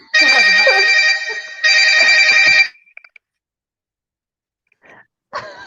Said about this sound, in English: That was a house phone, right?